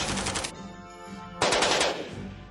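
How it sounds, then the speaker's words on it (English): An AK-47 rifle fires two loud, close bursts of automatic gunfire, each a dense rapid rattle, separated by a short pause with fading echo. "With its single or automatic firing capabilities, it performed the roles of both a rifle and submachine gun in one robust package."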